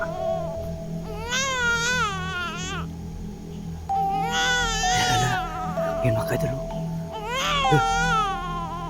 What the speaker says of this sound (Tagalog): narinig po tayo ng umiyak ng bata